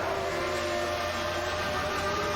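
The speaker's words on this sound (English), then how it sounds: "You can hear his engine just topping out in first." Engine of a race car in a Brazilian GP sim-racing event, stuck in first gear with a broken gearbox, holding a steady high-revving drone at the limiter, continuous and fairly loud.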